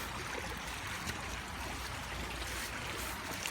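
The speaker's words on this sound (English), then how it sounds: "Now, if you can see, this is a river." River water flows steadily as a continuous broadband rush with a faint gurgle, close and fairly quiet, with no speech over it.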